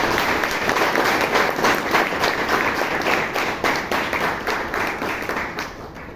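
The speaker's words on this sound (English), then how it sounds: "For a job well done, can you give a loud round of applause?" Audience applause at a Toastmasters club meeting in Bangalore, a loud, dense round of clapping that holds steady for several seconds before tapering slightly at the end.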